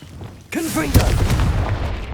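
Confringo blasting spell explosion in the video game Hogwarts Legacy: a sudden loud boom with a rumbling tail, close and forceful, mixed with a brief whooshing spell effect and game music.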